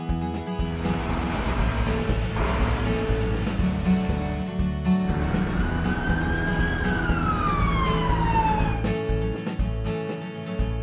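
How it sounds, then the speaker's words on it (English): A cartoon brush truck's siren gives a single long wail that rises and then slides downward, heard over a steady, busy cartoon music bed with no talking. "Brush truck."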